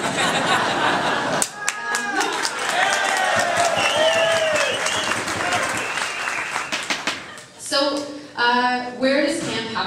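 A seated audience at a speaker session for a children's cancer camp breaks into broad applause, a dense crowd clapping that fills most of the stretch before tapering off near the end.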